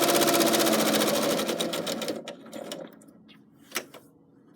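A sewing machine stitches down a fabric coaster in a fast, even mechanical whir up close, then slows and stops, leaving a few faint clicks as the fabric is swivelled.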